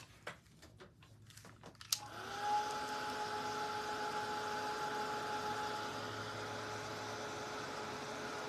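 A handheld dryer blowing on fresh paint on a vintage pant hanger: a few clicks and taps, then a steady whirring fan-motor drone with a faint whine that runs unbroken, fairly quiet and close.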